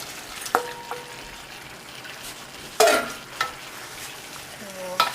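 Tofu sizzles in mapo tofu sauce while it is stirred, a quiet steady fry broken by several clanks and scrapes of a utensil against the pan.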